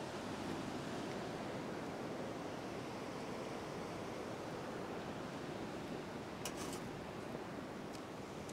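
Strong ocean surf rolling onto a beach during rain, a continuous broad roar of crashing waves that swamps everything else, with no voices present.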